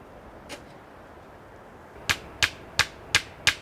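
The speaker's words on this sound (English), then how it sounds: "Nailing complete" Hammer blows driving nails into a cabin door panel during a rebuild: one faint strike, then five sharp, evenly spaced close hits in quick succession.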